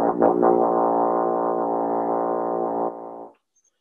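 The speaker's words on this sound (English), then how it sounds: "So if we go down, we see our first note is low F." A French horn plays a single low F, held steadily for about three seconds. The close, solo note then stops, leaving silence.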